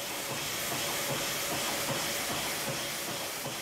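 An old early-20th-century steam engine at a rum distillery, fuelled by crushed sugarcane waste, gives off a steady, loud, broad hiss of steam with a faint rhythmic chugging underneath, continuous throughout and without voices.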